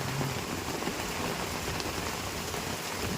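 Steady rain falls at three in the afternoon, a dense, even hiss of drops pattering on surfaces, continuous and moderately faint without any voices.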